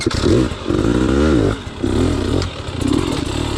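Dirt bike in hard enduro terrain spinning its rear tire over a tree stump, the engine loud and close, revving up in surges with clattering and scraping between bursts.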